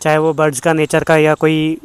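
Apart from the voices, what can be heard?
No everyday noises stand out.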